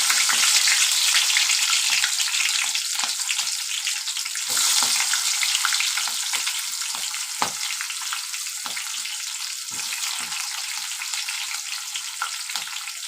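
Chopped onions and green chillies with spices sizzle in a hot pan for mutton curry, a steady, close frying hiss with occasional spatters and stirring scrapes, with no voices.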